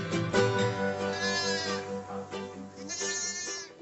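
Orphan lambs bleating on a Herefordshire farm during lambing season, several close, wavering bleats overlapping one after another with no talk.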